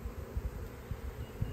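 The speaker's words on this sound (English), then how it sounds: "There's a lot of bees in this hive." Honeybees buzzing in a hive, a low, steady hum with soft swelling pulses, close and fairly faint, with no voices.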